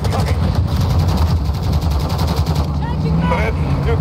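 Missile strike and explosions called in from air support in the Modern Warfare 2 video game, a dense continuous barrage of blasts and rumbling gunfire with radio chatter mixed in.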